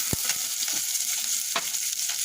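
Curry leaves frying in a pan for a capsicum mushroom curry give a steady, soft sizzle with a few sharp crackles and stirring scrapes near the start and middle, close and fairly quiet, with no voices.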